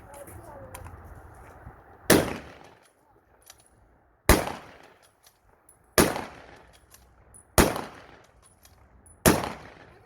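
A rifle fired five times in quick succession, each shot a sharp, loud crack about a second and a half apart. Faint voices and background noise come before the first shot.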